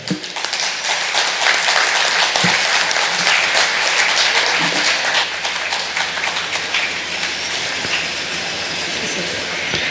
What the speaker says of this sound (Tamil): ஐயாவுக்கு ஒரு கைத்தட்டல்.